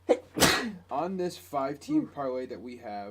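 One sharp, close sneeze bursts out at the start, immediately followed by someone talking in a podcast conversation about a UFC betting parlay.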